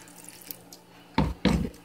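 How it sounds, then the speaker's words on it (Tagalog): Water poured from a tap onto sliced cucumbers in a kitchen bowl, two short splashing bursts after a quiet lead-in. "Yan, lagyan mo ng tubig."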